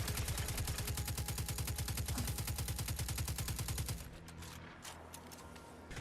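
Rapid automatic fire from the Scathelocke, a legendary AK-47-style auto rifle in Destiny firing about 600 rounds per minute, rattles in a steady burst for four seconds, then cuts off into quieter game ambience with faint scattered shots.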